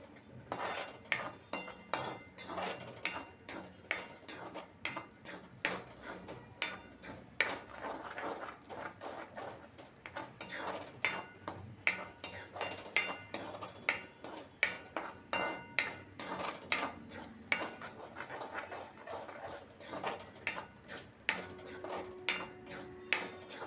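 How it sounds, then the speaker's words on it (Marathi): Spoon scraping and clinking against a pan while stirring masala in oil for stuffed brinjal, a brisk regular rhythm of metallic taps close by, with no voices. "या मसाल्याला चांगलं तेल सुटेपर्यंत परतून घ्यायचं"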